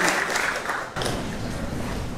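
A room of people gives a steady round of applause at a visit to a training centre, the dense clapping filling the clip with a brief dip midway.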